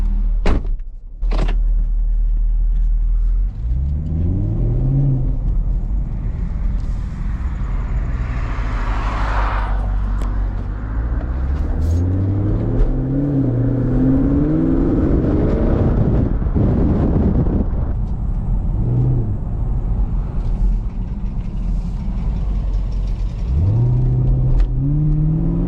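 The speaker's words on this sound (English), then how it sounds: "Car sounds great, car feels good." A car drives along steadily with a low engine drone and wind rumble, pitch rising and falling through gear changes over roughly 25 seconds, with no talk.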